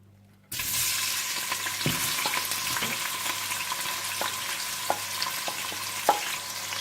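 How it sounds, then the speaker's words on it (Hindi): Chopped onions and whole spices hit hot oil, bursting into a loud, steady sizzle after a brief quiet moment, with occasional sharp pops and stirring clicks close by and no voices. "सबसे पहले आप तेल गरम कर लें और इसमें आप डाल दें कटी हुई प्याज और साबुत खड़े मसाले"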